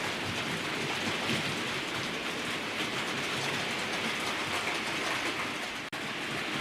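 A model train pulled by a Class 67 locomotive rolls steadily over track laid on cork, giving a continuous close rumbling clatter with no pauses and one brief click near the end.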